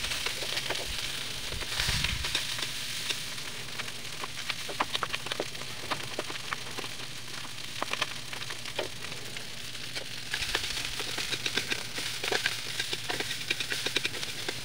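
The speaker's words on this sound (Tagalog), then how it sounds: "isasangag natin yung tirang kanin kagabi" Leftover rice from the night before frying in a pan for sinangag, a steady close sizzle with crackle and light stirring patter running throughout.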